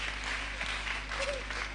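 An audience applauding at the opening ceremony of a girls' STEM camp, a continuous wash of clapping from a crowd, with faint voices mixed in.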